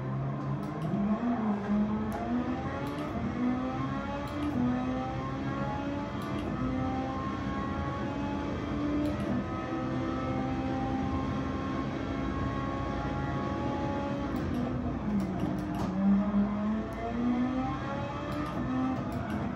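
Simulated car engine in Gran Turismo 7, played on PSVR2 with a Logitech G29 wheel, droning and rising in pitch through repeated rev sweeps, steady and moderately loud with no voices.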